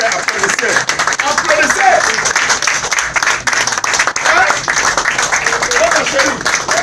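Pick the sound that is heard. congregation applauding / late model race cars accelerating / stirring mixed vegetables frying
congregation applauding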